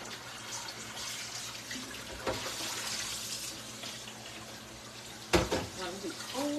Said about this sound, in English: you want to run cold water over your noodles to stop the cooking